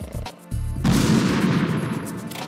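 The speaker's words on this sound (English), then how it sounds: "boom, grenade takes them both out" Grenade explosion in Metal Gear Solid 2: a short muffled thump, then a loud, sustained roaring blast that decays slowly over a couple of seconds, heard alone.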